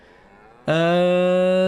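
A single loud, long moo from a cow in the Farming Simulator 22 video game starts abruptly after a short quiet stretch and holds steadily, close and clear, following a brief spoken word.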